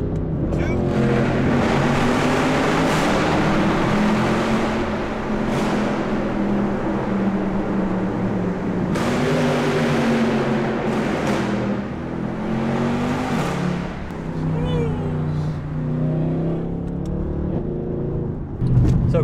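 A car engine revs hard through successive downshifts while crossing a bridge, a loud close roaring drone that rises and falls with each gear change, with talk over it.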